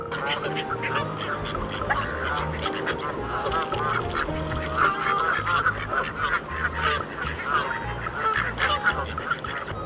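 Duck quacking calls repeat over a busy musical backing with a voice, steady and fairly loud throughout.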